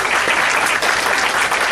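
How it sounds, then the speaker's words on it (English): An audience at a furry convention applauds fursuiters, a dense, steady wash of many hands clapping close by for nearly two seconds, with faint voices mixed in. "Big round of applause for some of our fursuiters."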